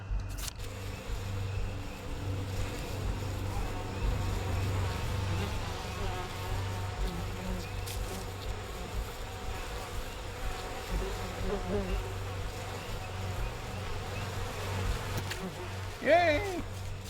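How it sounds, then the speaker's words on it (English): Bees in the video game We Happy Few buzz steadily around a hive during honey harvesting, a low continuous drone with insects flitting near and far, with a brief louder knock near the end. "The bees are normally more upset about providing honey."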